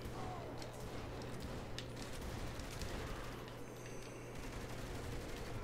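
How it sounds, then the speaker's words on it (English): Bursts of rapid gunfire in the Saints Row The Third video game, repeated volleys over a steady low game hum, moderately loud, with no talk. "What is shooting like that?"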